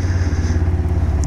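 A motorcycle engine runs close by on a cold morning, a steady low throbbing idle with a rough, even pulse and no talk over it.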